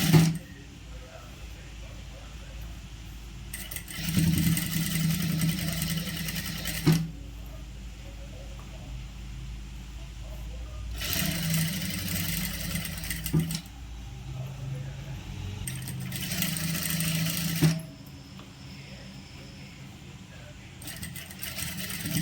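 Sewing machine stitching piping on a churidar in a tailoring setting runs in three separate bursts of a few seconds each, with quiet pauses between them and a voice speaking nearby.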